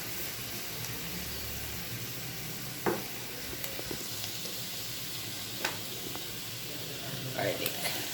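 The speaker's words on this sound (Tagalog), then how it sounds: "So, ginigisa na po natin ang ating bawang" Onion and garlic sautéing in a pan for creamy carbonara, a steady moderate sizzle with occasional stirring clicks and scrapes, with a voice faintly in the background.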